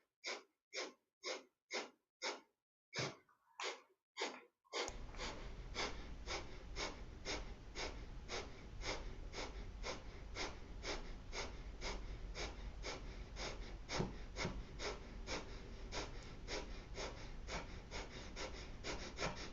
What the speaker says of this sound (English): and then breathing out, in and out through the nose.